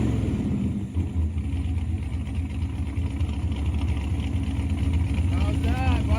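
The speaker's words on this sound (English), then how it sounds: "Good burnout, yeah, and I had turbo sound." A classic muscle car at a drag race holds a steady, loud engine roar through a burnout, with turbo whistle rising near the end.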